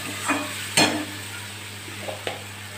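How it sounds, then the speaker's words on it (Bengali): A little water is added to spiced oil in a pan, giving a sudden loud burst of sizzle followed by a steady hiss, with spatula stirring and scraping clicks, close and without talk. "এবার আমি দিয়ে দেবো অল্প করে একটু জল"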